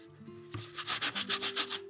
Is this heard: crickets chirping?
no